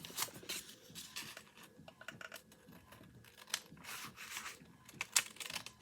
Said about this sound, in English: So I'm just using regular paper scissors.